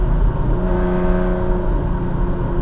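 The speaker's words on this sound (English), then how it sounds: "This has got a straight through pipe, which makes it insanely loud." A Lamborghini Countach QV from the 1980s with a straight-through exhaust idles nearby, giving a loud, steady, deep engine drone with a rich rumbling tone and no revving.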